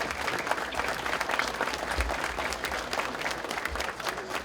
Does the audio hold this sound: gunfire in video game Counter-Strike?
no